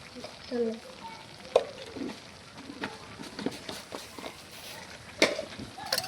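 Meat nearly boiled in a pot with mustard oil and whole spices, quietly sizzling while being stirred, with a few scraping clinks of the spoon and faint background birds, no talk.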